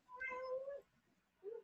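A cat gives a clear drawn-out meow, followed a moment later by a shorter second meow, close and alone against a quiet background.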